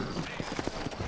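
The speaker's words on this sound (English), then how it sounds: "You ain't gonna find sturdier horses than these in all of New Orleans." Sturdy horses clip-clop on the ground in the Red Dead Redemption video game, a quick run of close, distinct hoofbeats with voices talking over them.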